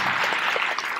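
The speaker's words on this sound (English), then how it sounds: "Give yourselves a big round of applause for being here." Applause from a conference audience, a dense wash of many hands clapping steadily and fairly loud throughout the short moment, with no voices standing out.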